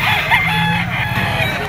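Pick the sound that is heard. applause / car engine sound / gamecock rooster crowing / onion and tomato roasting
gamecock rooster crowing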